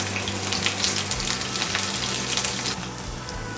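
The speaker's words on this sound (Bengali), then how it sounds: "আলুটা ভাজা হয়ে গেছে মোটামুটি, আমি এবার তুলে নেব।" Potato pieces fry lightly in oil for a Bengali shukto, giving a dense, even sizzle with rain-like patter, heard close and steady throughout.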